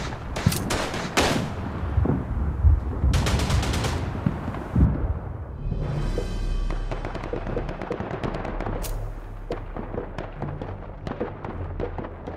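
Gunfire and explosive artillery blasts from the World War I shooter Verdun, played on PS5: loud bursts and rapid crackling volleys that come in clusters, then scattered distant booms and shots, with no talking.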